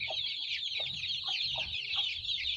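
Young chicks cheep and peep in a dense, steady chorus at close range, with soft clucking pulses underneath, as they scramble about after a light is switched on to eat and drink.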